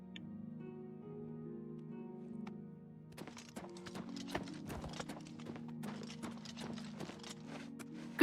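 Horse trotting in the video game Oblivion Remastered, a quiet steady hum giving way to a run of crisp clip-clop hoofbeats in a quick, regular rhythm, moderately close.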